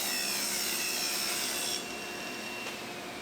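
Wooden panels for a kitchen sink cabinet drawer are trimmed to size with a loud, continuous power saw whine that drops off abruptly partway through, leaving a quieter running tone.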